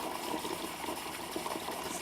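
Tap water gushing steadily into a pot of beans, a dense, even rush of running water filling the vessel without pause.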